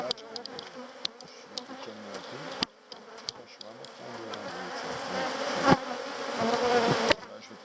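Honeybees at an open hive frame full of brood, a dense, continuous close buzzing that swells louder toward the end, with occasional sharp knocks and clicks of the frame being handled.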